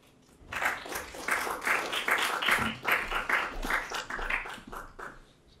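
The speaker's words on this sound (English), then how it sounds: "you did just receive a round of applause from the room, but it was muted" A room audience at an AI symposium gives a round of applause, soft and muted, a dense patter of clapping lasting several seconds before fading out.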